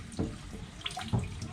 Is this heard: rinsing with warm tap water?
yes